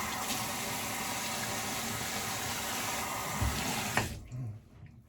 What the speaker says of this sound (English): I'm going to put a little bit more water on